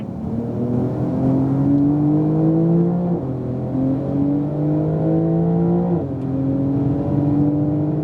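A 2018 Porsche 911 Turbo S accelerates on a race track, its engine note climbing steadily through gears with several upshift drops, loud and continuous from inside the car.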